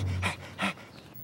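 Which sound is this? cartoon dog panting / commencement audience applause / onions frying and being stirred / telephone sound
cartoon dog panting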